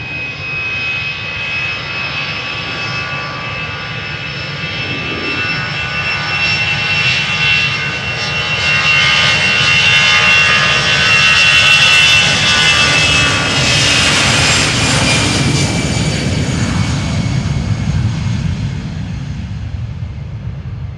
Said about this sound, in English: Going to London Luton is this EasyJet A319.